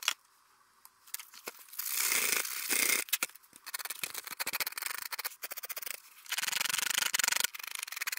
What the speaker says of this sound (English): So let's sand